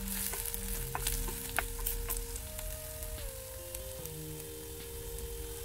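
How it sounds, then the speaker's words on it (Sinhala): Chopped onions sizzle and fry in hot oil for a tempered onion dish, a steady crackling hiss with occasional stirring clicks, close and continuous, with a faint tonal hum in the background. "කපාගත්ත ලුණු ටික දානවා මේ ලුණු ටික තෙලෙන් හොඳට තැඹෙන්න තියන්න ඕන"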